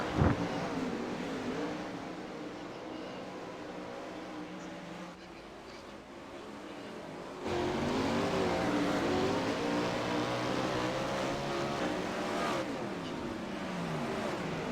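410 sprint cars racing on the Lernerville dirt track, a continuous roar of engines that drops slightly midway then swells louder as the field comes round, with a race announcer talking over it.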